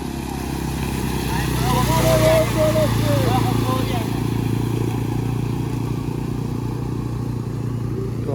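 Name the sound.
two motorcycles riding through flooded road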